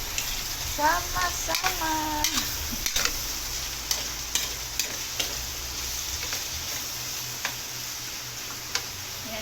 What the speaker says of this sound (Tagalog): Ayan, gigisa lang natin yung pork and liver.